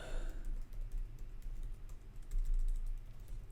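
Rapid keystrokes patter on a computer keyboard, an uneven stream of close, moderately quiet clicks with small pauses, no voices over them.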